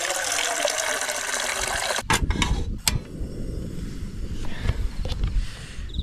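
Water is poured at a cold night campsite to heat for coffee, a close, bright stream that stops abruptly, followed by a few clinks and soft handling of gear.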